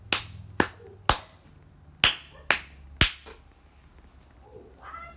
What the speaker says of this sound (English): let me clap at the microphone